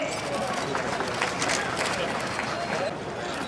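A crowd at a Hindi-speaking meeting at Rajendra Surgical, PMCH, held for the 66th celebration and Milad-un-Nabi, claps in a steady, even wash of applause blended with murmuring chatter.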